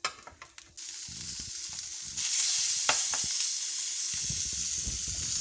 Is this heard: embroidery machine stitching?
no